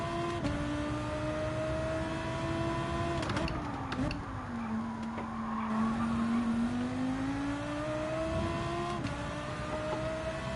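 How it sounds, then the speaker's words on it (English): A Lamborghini racing in Gran Turismo 7 at Bathurst, its engine droning steadily near high revs for about ten seconds, with brief dips and rises in pitch as it shifts and corners. "It's a Lamborghini, surely we're revving the nuts out of it."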